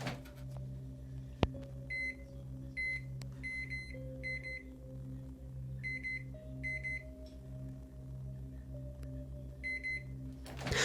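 A microwave oven's electronic beeps in short sets ring out repeatedly over a steady low appliance hum, with a soft thump early on.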